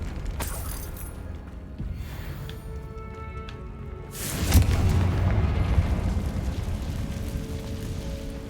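Confringo fire spell blasting in Hogwarts Legacy: a loud boom hits midway, followed by a rumbling burst and crackle over steady ambient game music and low background noise.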